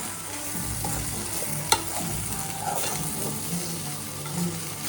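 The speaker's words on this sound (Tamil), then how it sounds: "நம்மளோட வாழைக்காய் நல்லா ஃப்ரை ஆயிடுச்சு" Plantain (vazhakkai) frying in a pan, a steady sizzle with scraping stirring strokes and a sharp clink of the utensil against the pan, close and moderately loud.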